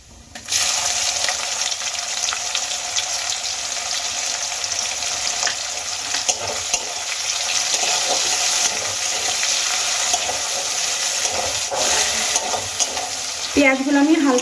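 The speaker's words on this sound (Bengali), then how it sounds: "সেই কুচোনো পেঁয়াজগুলো আমি তেলের মধ্যে দিয়ে দেবো" A large chopped onion frying in oil for a fish-head mung dal, a loud, constant hissing sizzle that starts suddenly and runs without letup, with a few clinks near the end.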